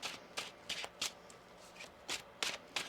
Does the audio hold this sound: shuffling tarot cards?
yes